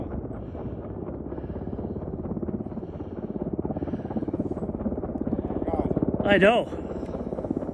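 A Black Hawk helicopter during a training exercise in Utah gives a continuous rhythmic rotor chop throughout, with a brief voice speaking near the end.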